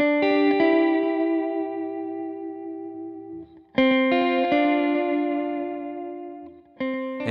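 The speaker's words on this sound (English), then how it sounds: "when you put more than one delay together, you get the illusion of reverb anyhow" Electric guitar phrases ring out and repeat in layered echoes that pile up into a reverb-like wash, two or three picked passages with decaying tails.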